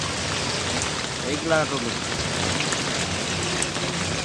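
Heavy rain pours steadily in Angeles, Pampanga, a dense continuous wash of drops on surfaces, with a brief voice speaking over it partway through.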